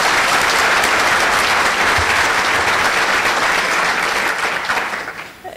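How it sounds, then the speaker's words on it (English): Loud, dense applause from the audience at a scholar-athlete luncheon, sustained close and full for several seconds before tapering off near the end. "All right, one last round of applause for Anthony and Kelly."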